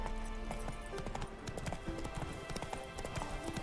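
Roach the horse galloping in The Witcher 3, a steady fast clip-clop of hooves over a busy game soundscape with background music.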